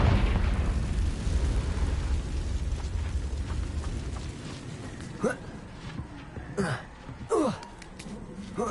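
A Confringo fire spell explodes in Hogwarts Legacy, with a loud booming, rumbling burst followed by several sharper crackling pops as the blast dies away, under game voices.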